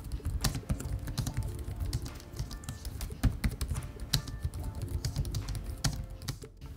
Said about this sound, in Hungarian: A billentyűzet responszív és halk, igazából tök kellemes rajta gépelni.